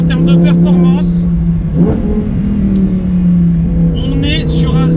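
A Lamborghini engine holds a loud, steady drone as the car accelerates hard, with someone talking over it throughout.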